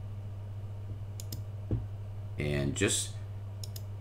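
Mouse clicks in Manjaro while choosing the fastest mirrors: a few soft, close clicks spread across a few seconds under a steady hum, with brief speech partway through.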